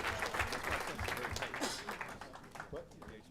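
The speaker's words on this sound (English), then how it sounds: "let's give one more big applause to our basketball and soccer champions from Miami Beach" An audience at a city commission meeting in Miami Beach applauding basketball and soccer champions, continuous crowd clapping with people talking and calling out over it.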